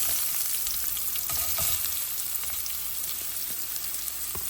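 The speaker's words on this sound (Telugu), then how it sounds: "కాకరకాయ చక్రాలు వేస్తున్నాను" Bitter gourd rounds frying in hot tempering oil in a pan, a steady close sizzle with scattered sharp pops and crackles throughout, no voices.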